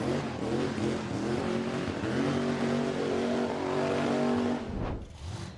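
A burnout car at Summernats, Australia's big horsepower event, revs hard in low gear. A loud, sustained harmonic engine howl holds steady and close, then cuts off abruptly near the end.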